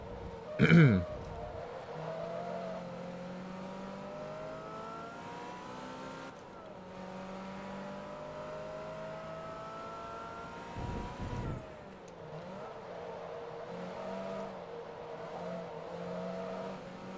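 Car engine from the racing game Forza Motorsport 2, a steady droning motor with rising and falling pitch as it shifts through gears, a couple of brief louder bumps, sustained throughout.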